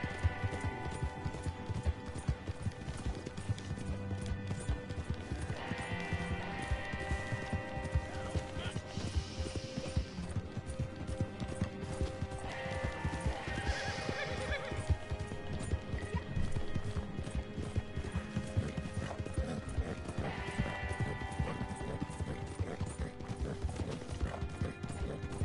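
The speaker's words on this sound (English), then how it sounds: "Why do you use the Black Arabian horse? Because it's very fast and I like a really fast horse." A Black Arabian horse gallops in the video game Red Dead Online, its rapid, continuous hoofbeats running throughout under a dense game soundtrack, with someone talking over it.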